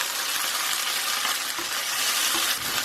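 Ginger and garlic paste sautéing with onions in a pan for an Indian cabbage and channa dal dish, a steady loud sizzle with soft stirring scrapes throughout, no voices.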